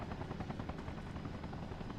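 A helicopter in the video game Arma Reforger makes a steady, dense rotor chop with a droning engine underneath, loud and continuous with no speech.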